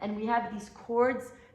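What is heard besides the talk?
No distinct noise like a dog, phone or traffic.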